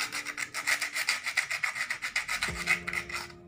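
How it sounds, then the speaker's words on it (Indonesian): Steady rhythmic rasping as sandpaper is rubbed back and forth against a hard metal edge, many quick even strokes in a row, close and fairly loud. "sementara itu kita amplas dulu sisi-sisinya biar tidak tajam"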